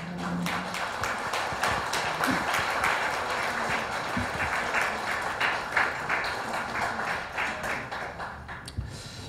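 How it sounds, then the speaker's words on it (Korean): Clapping rises from the audience at an anniversary ceremony of the Korea–Kyrgyzstan exchange and cooperation committee, a sustained patter of many hands filling the room that keeps a fairly even level throughout. "큰 박수 부탁드리겠습니다"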